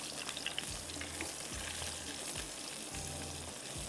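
Garlic and onion frying in a pan for garlic fried rice, turning golden brown, with a steady broadband sizzle throughout and a few faint scraping touches underneath, no voices.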